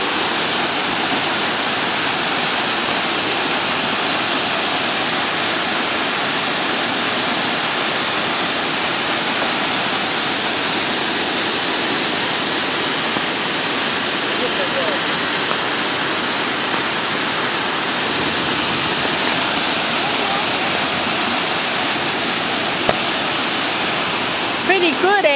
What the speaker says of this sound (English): That's the second fall of Hill Creek.